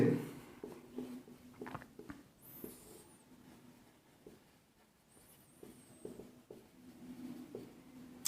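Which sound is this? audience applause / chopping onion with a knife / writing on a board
writing on a board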